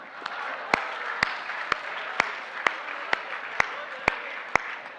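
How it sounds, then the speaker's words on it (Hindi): An audience at a Hindi comic poetry show claps in a sparse, irregular pattern: about a dozen separate sharp claps spread over five seconds against a quiet room murmur. "जिसको खुशी हो ताली बजाना, वरना मेरे से चिढ़ते हैं।"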